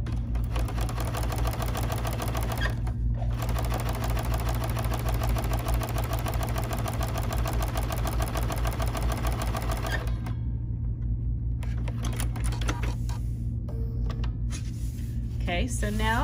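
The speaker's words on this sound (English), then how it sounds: "so now I just made a little basting stitch there" A BERNINA sewing machine runs a basting stitch as a steady, rapid mechanical chatter with a constant hum. It stops briefly once, then halts, leaving light handling noises and a voice.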